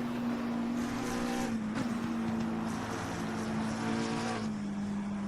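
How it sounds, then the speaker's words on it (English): A race car engine drones steadily at high revs, its tone dipping briefly as it shifts, with a smooth synthetic quality, fairly quiet overall. "Such is the torque out of Beckett's from that McLaren"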